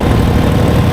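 The engine of a 1946 Harley-Davidson FL Knucklehead idles loud and close, a rough, low, lumpy rumble that holds steady throughout.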